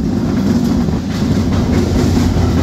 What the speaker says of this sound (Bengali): একটা ট্রেনের সাথে ক্রসিং হচ্ছে